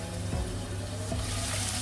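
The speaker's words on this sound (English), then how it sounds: "start with the onions because the onions need to fry properly" Onions fry in a pan with a soft, continuous sizzle heard fairly close, joined by a couple of faint stirring scrapes.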